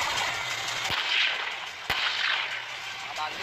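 Military weapons fire loudly during the Balikatan 2025 joint exercise between Philippine and US forces, with two sharp, heavy blasts standing out against a constant rumble of distant firing.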